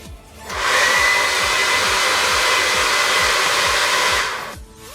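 An LS Airmax 5000 Hurricane hair dryer switches on and blows with a steady, loud whooshing roar and a faint whine for several seconds, then cuts off.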